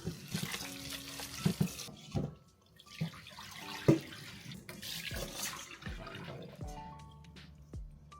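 Salted komatsuna is rinsed under a running tap in a sink, with quiet splashing and intermittent water flow, soft clinks and handling noises nearby.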